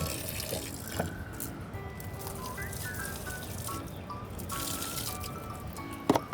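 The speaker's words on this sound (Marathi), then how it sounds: "झाडाला पाणी घालून देतो।" Water trickling and splashing softly while a young fruit plant is watered, with faint drips and gentle running water at low level, plus a few light clinks and a brief knock near the end.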